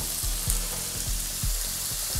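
Teppanyaki chicken breast and carrots fry with chili oil on a hot plate, a bright constant sizzle close up, with soft rhythmic scraping strokes repeating through it.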